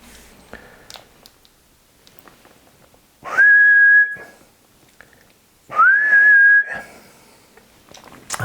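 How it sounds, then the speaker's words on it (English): Two loud, steady whistles are blown into a radio microphone for a test, each lasting about a second with a slight upward slide on the second, separated by quiet background clicks. "And I'll just do a quick whistle test."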